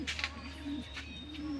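A racing pigeon coos softly in low repeated rolling notes against a steady background hum, close by and fairly faint.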